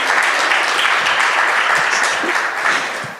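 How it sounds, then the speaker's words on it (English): A crowd of guests at a Moldovan business event on guarantees and financial support claps loudly and steadily, a full, close round of applause that holds strong throughout and tapers off at the very end. "let's give a round of applause to the Invest Moldova agency"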